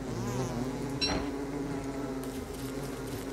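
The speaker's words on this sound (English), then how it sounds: "bees come out and attack me" Bees buzz and swarm to attack in the game Don't Starve, a steady droning hum with a brief sharper burst partway through, continuous and fairly close over the game's background.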